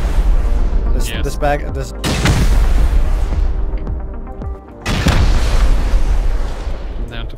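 Grenade launcher rounds go off in the survival game Rust, with repeated heavy booming blasts and rumbling detonations in close succession while a voice speaks briefly between them.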